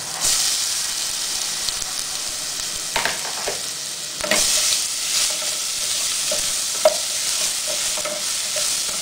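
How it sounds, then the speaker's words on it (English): Coriander, garlic and white pepper paste frying in a pan for a Thai pork filling, a steady close sizzle with occasional stirring scrapes and small pops throughout, no talking. "Fry it until it smells good, and then add the pork."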